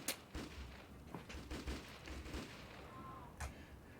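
Gunfire in an Amiga video game, a run of soft, muffled shots popping at irregular intervals amid busy game noise, with a brief tone near the end.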